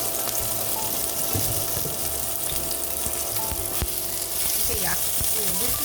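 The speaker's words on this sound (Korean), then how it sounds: "이게 물기가 있다 보면 튀기네요." A seafood pancake sizzles and spatters steadily in a hot frying pan, with scattered sharp pops over the constant hiss.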